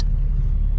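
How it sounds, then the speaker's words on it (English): Ford Fiesta car engine starting and idling with a steady low rumble, close and continuous, after a blend door actuator replacement. "let me turn on the car to see if it still make noise or not"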